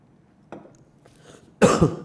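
A single sharp cough bursts out near the end after a faint throat noise, close and fairly loud, with a quieter throat sound earlier in the otherwise quiet room.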